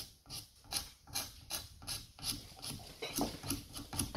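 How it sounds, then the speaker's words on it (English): A horn nock is scraped by hand to fit the tip of a self yew English longbow, giving a steady series of close, dry rasping strokes, roughly two or three per second, with no talking. "So just keep scraping until we get a perfect even"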